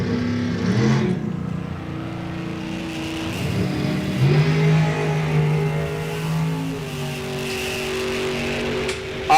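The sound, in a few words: drag racing cars launching down the track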